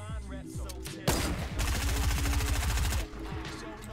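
Bursts of automatic gunfire in a Fortnite match, loud and close, with a sustained rapid volley lasting about two seconds after a brief lull and quieter game sounds around it.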